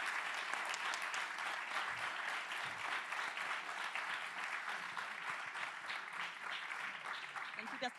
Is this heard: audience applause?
yes